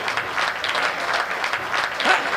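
An audience claps at a live Hindi comedy poetry show featuring Lakshman Nepali, a dense, steady burst of applause from a sizable crowd heard close and loud.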